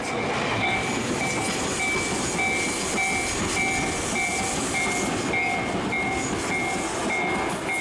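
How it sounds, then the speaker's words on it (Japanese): Tobu Urban Park Line and Skytree Line trains, including a Spacia limited express, rumble past a Kasukabe level crossing with steady clattering wheels while the crossing bell dings rhythmically throughout, loud and close, with no voices. "アーバンパークラインの下り大宮行きと スカイツリーラインの上り特急スペーシア浅草行きがほぼ同時に通過し"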